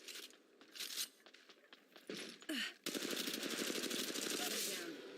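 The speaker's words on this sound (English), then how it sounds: "Opening fire." Rapid automatic gunfire in the mobile shooter Apex Legends Mobile, loud and close, with short bursts giving way to a sustained stream of shots over the last half, over faint game ambience.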